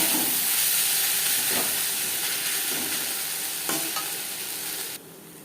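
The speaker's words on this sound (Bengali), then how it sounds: "দু তিন মিনিট পেঁয়াজ ভেজে নেওয়ার পর দিয়ে দেবো আদা ও কাঁচা লঙ্কার" Onion frying in a pan with ginger and green chilli for egg curry, a steady loud sizzle and hiss with occasional stirring scrapes, quieter toward the end.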